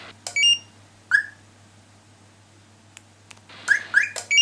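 A Scher-Khan car alarm gives several short electronic chirps while being disarmed with a PIN code: one quick pair early, a lone chirp, then a rapid cluster at the end, over a steady low hum.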